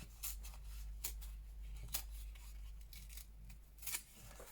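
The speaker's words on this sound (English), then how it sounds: "So let's go for a tear." Close, quiet ripping and scraping of glossy paper being torn in several short bursts over a low steady hum.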